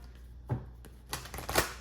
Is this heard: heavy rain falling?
no